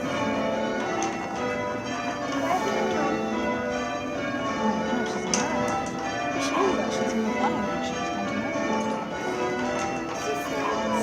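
Church bells rung by a team of bell ringers sound in a continuous, overlapping series of metallic strokes, steady and moderately loud and reverberant throughout.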